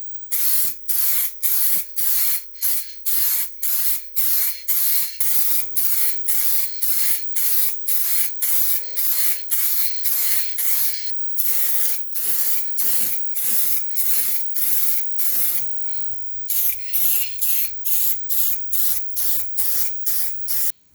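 Repeated bursts of aerosol spray as a top coat finish goes onto a stained wooden radio cabinet: about twenty short, loud hisses in steady rhythm, with a brief pause midway and no voices.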